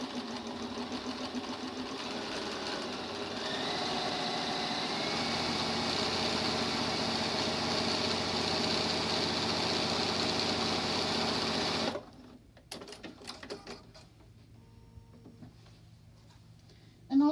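A sewing machine stitches along a quilted pillow, its steady whirring drone running without a break for about twelve seconds, then cutting out and leaving a few light clicks and handling sounds.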